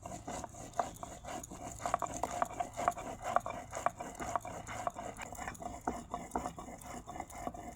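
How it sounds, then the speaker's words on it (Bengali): Fresh green chillies and dried red chillies crushed by hand on a flat grinding stone with a stone roller: close, steady, rhythmic scraping and knocking strokes repeating throughout. "এই যে বাটছি আমি।"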